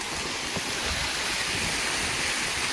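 Steady rushing of a river flowing beside a walking path in Japan on a windy day, a continuous broadband wash of water that stays even and fairly loud throughout, with no voices.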